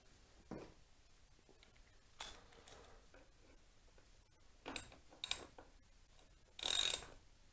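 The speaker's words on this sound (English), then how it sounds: "just need to loosen the front spindle." Loosening the front spindle of a bike: faint, scattered mechanical clicks and ticks of a tool working on the axle, with one brief louder rasping burst near the end, quiet and close, no talking.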